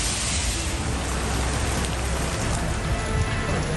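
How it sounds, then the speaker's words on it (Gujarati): Steady, heavy rain brought by Cyclone Tauktae falls in Gujarat, a dense continuous hiss of drops drumming on surfaces, close and uniform throughout, with no talk. "ટાઉતે વાવાઝોડાના પગલે અનેક જિલ્લાઓમાં રવિવારે સવારે વરસાદી વાતાવરણ જોવા મળ્યું"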